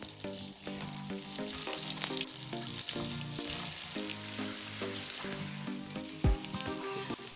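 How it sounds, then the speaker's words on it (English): Boiled eggs shallow frying in hot oil with turmeric and chili powder, a strong continuous sizzle with a spike of spatter near the end, under steady background music and with no voices. "To shallow fry the boiled eggs, heat some oil in a pan and add half teaspoon of turmeric powder, half teaspoon red chili powder,"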